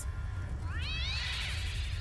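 A cat enemy in the South Park: The Fractured But Whole video game lets out a single drawn-out, wavering meow that rises and bends over a low background hum.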